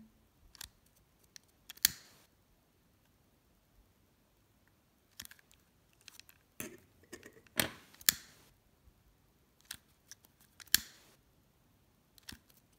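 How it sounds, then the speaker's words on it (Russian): Scissors snip off excess satin ribbon while making ribbon flowers, a series of sharp, brief, quiet clicks and cuts scattered irregularly with silent gaps between them, close by and with no talking. "лишнее обрезаю и зажигалочкой запаиваю."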